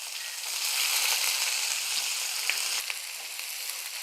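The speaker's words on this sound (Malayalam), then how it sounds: "സവോള ഇട്ട് കൊടുക്കാം" Sliced onions frying in hot ghee in a pan for ghee rice, giving a steady, loud, close sizzle with a few faint clicks of stirring and no talking.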